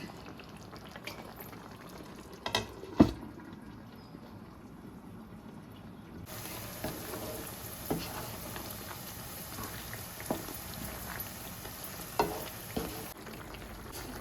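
Chicken curry with cut potatoes fries and sizzles steadily in a pan, with a few louder scraping stirs early on and a brighter, more intense sizzle after the lid comes off partway through.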